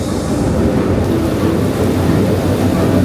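Rain and storm effects roar across a Universal Studios hurricane stage show, a steady, loud wash of rushing, rumbling noise like downpour, wind and surf, unbroken throughout.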